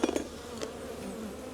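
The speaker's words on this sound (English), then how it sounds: "it's a box of bees here." A low, steady hum of many honey bees buzzing close by in an opened hive box, with a couple of faint knocks at the start.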